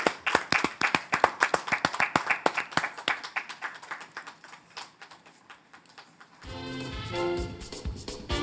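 Enthusiastic applause from a crowd for dancers, dense clapping for several seconds that thins out, then music begins.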